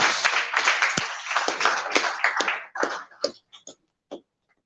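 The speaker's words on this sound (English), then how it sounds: "Another round of applause for that." Audience applause at a human capital development conference in Awka fills the hall, dense and loud, then thins into a few scattered, fading claps and falls silent.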